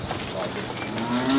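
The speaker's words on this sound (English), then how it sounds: "Right, I'm going to get these cows in." Cattle on a farm being brought in for hoof trimming, with a low, drawn-out moo building near the end over steady ambient noise.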